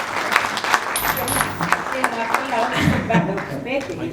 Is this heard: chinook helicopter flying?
no